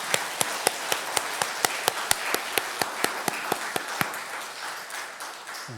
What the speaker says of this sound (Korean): 예, 박수로 하나님께 영광.